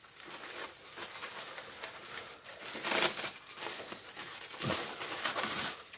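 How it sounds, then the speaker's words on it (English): Aluminium foil is peeled off a baking dish of Samoan sweet bread with coconut and bananas, making quiet, irregular crinkling bursts close by with no talk. "Now take the foil off."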